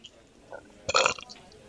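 A single short sneeze bursts out near the middle of a quiet indoor moment, loud and close, with faint sounds before it and no talk over it.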